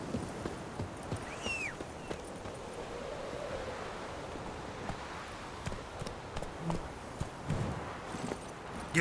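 A horse trots along in The Witcher 3, its hooves clip-clopping steadily and softly in a continuous rhythm over a low ambient wash.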